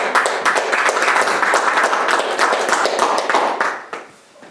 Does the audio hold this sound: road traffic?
no